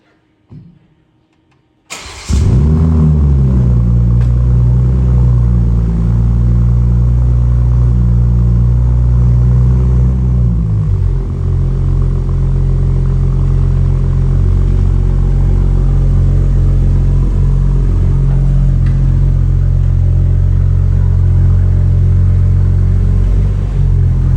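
A Toyota A90 Supra with a newly built transmission and TCM starts after a quiet pause, its engine catching with a loud surge and then settling into a steady, deep, close idle rumble for the rest of the stretch.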